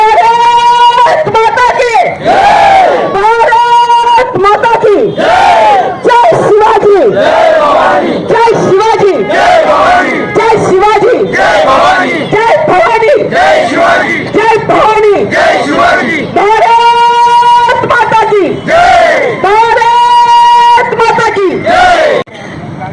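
Large crowd at a tricolour rally in Belhe honouring Indian soldiers shouting slogans together in loud, repeated chanted bursts, voices roaring in unison and filling the whole stretch.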